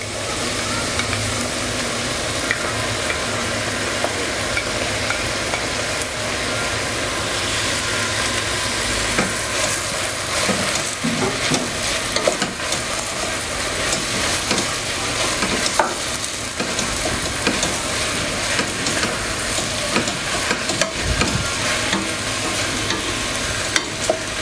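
Chopped sun-dried tomato sautéing with onion in a hot pan, a loud, dense, unbroken sizzle with frequent crackles and stirring scrapes over a low background hum, close by, without speech.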